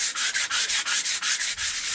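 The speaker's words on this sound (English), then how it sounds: "I should say it's 80 grit, but it's a worn piece of 80 grit" Worn 80-grit sandpaper rubs across wood in quick, even back-and-forth strokes, about ten scratchy passes in two seconds, close and alone.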